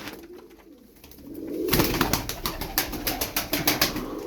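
Soft, low cooing from pigeons close by, over a rustling background and a rapid run of flutter-like pulses in the second half.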